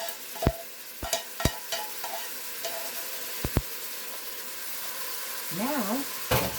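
Browned hamburger meat simmers with a soft, steady sizzle in a pan, punctuated by several sharp metallic clinks of a utensil against the pan, with a short burst of voice near the end.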